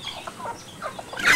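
Chickens cluck in short, repeated bursts at an animal enclosure where an ostrich is also kept, with a louder squawk near the end.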